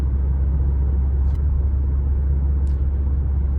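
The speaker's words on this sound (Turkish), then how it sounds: "Dört çeker sayesinde güzel bir kalkış yapabiliyorsunuz" A Mercedes-Benz GLB200 4MATIC, a 1.33-litre 163 hp all-wheel-drive SUV, pulling away from a standstill, its engine a steady, heavy rumble heard from inside the cabin at an even, sustained loudness.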